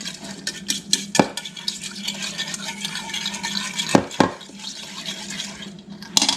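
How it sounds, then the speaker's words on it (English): A marinade of lemon juice, oil and oregano stirred in a bowl, steady close swishing and scraping with a few sharp clinks of the utensil against the side, no voices. "and stir that up"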